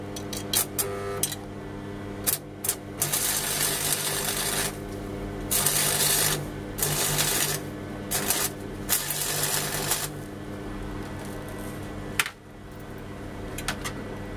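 A new stick welder laying a bead with the power turned down, giving a harsh crackling buzz in uneven bursts with brief gaps where the arc drops out and restarts.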